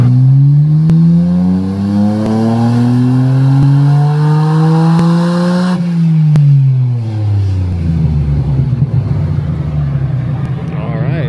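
A Nissan R34 GTR on a dyno winds up through a long, loud rising rev, then drops away as the throttle closes and burbles down to idle, with voices in the background.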